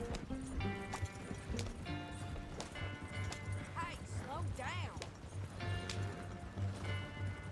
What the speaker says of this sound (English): coming in hot with these horses here